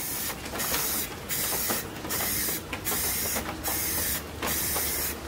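A spray paint can lays down overlapping coats of gloss white in six evenly spaced hissing bursts, each about half a second long and close to the microphone, over a steady low background hum.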